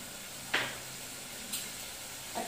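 Onions with green chillies, coriander and mint frying in oil over a high flame give a continuous soft sizzle, broken three times by brief scraping clicks from stirring.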